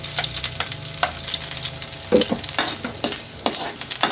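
Chopped onion hitting hot oil with garlic for a coconut-milk shrimp and moringa dish, a crackling sizzle punctuated by repeated spatula stirs and scrapes against the pan, close and loud, no voices.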